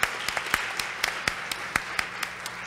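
Scattered hand claps from an audience at a Women @ Wentworth 2018 event, a thin, sparse smattering of sharp individual claps spread across the moment, moderately close with a faint room hum underneath.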